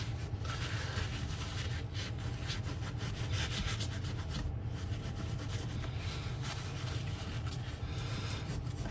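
Foam gunk made of a glue-based open-cell material being scraped off the inside of a vintage MXR MX-117 flanger pedal, heard as a steady, continuous rasping scrape over a constant low hum, close and moderately quiet.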